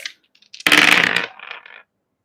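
Astrology dice rolled and tumbling across a surface: a loud clattering burst followed by a few lighter, quicker rattles that settle into silence, with no talk.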